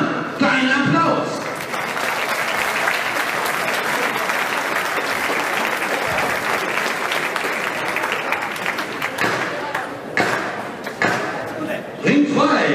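A boxing crowd at a Weseler BC event claps for boxer Christian Gomann, dense, steady applause filling the whole stretch with a few louder bursts and voices near the end.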